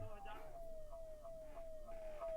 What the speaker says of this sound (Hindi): कोई अगर आवाज आ रही है सायरन की तो उसको बंद कर दें तो ज्यादा बेहतर होगा।